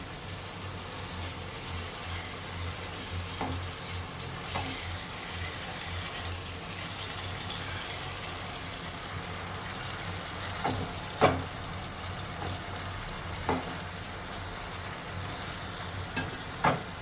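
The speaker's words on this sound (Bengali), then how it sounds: "ঝোলটা ফুটছে এবার মাছটা দিয়ে দেবেন" Spiced gravy for a bhola fish curry bubbles and sizzles softly in a pan, a quiet, steady simmer with occasional small pops and clicks, no voices.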